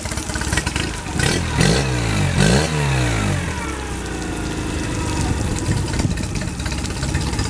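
A 2008 Tohatsu 9.8 hp four-stroke outboard motor runs close by, idling with a steady rough chug and a short rise in revs early on, and water sounds mix in, with no one talking.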